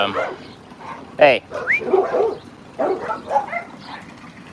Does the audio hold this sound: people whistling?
no